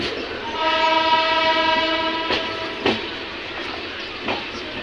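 Rayalaseema Superfast train between Nizamabad and Tirupati sounds a long, loud multi-tone horn, followed by sharp rail clanks and clatter as it passes nearby.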